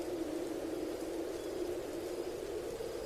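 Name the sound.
heavy stormy rain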